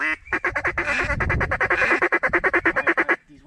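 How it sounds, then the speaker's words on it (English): A flock of ducks or geese calls during a duck hunt in North Dakota, a rapid loud series of honking calls close by, alone without talk. "it's a bunch of birds"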